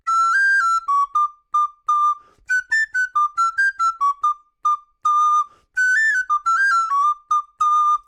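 A solo descant recorder plays the fiddle tune Soldier's Joy with bright, close, clear notes in quick phrases and short breaks between them.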